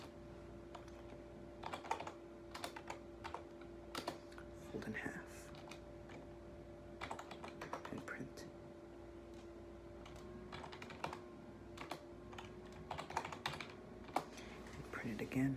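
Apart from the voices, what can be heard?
computer keyboard typing while coding in Java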